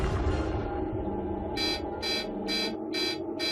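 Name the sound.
alarm sounding at scientific devices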